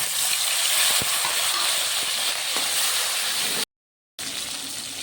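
Potato and pointed gourd fry in a pan with green chili and black cumin, giving off a steady, close sizzling hiss that cuts out briefly to silence before resuming.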